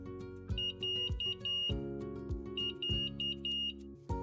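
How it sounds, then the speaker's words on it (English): An Omnipod insulin pump PDM sounds a reminder alert: a patterned series of bright electronic beeps and tones in quick repeated groups, clear and fairly close over a steady low hum, with no talking. "When you hear a reminder, turn on your PDM and read the on-screen message."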